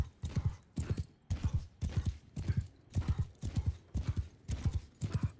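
Horse hooves clip-clopping in Mount & Blade II Bannerlord video game, a steady galloping rhythm of repeated clustered beats, close and clear with no talk over it.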